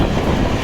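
An electric train passing Kanaibazar railway station, a dense continuous rumble and rattle of rolling wagons, loud and close over a brief stretch.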